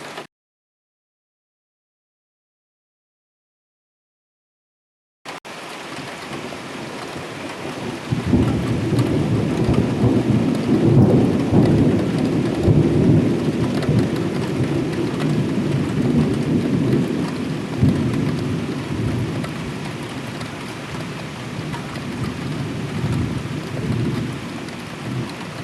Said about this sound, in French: Le voici, il est là l'orage.